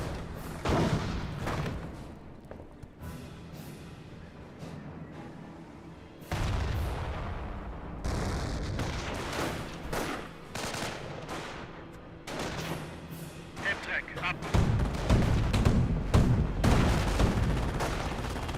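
An artillery barrage in the World War II strategy game Company of Heroes, with repeated booming shell blasts and crackling gunfire in dense overlapping bursts, loud and close, continuing for the whole stretch.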